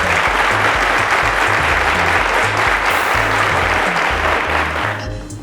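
Loud, dense applause from a studio audience at a televised school quiz show season finale, steady sustained clapping over low background music, fading slightly at the end.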